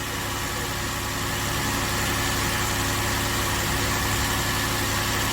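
Hyundai Grandeur LPG car engine idling steadily with an oil leak from the radiator hose area, a continuous loud low hum and vibration with no pauses and no voices.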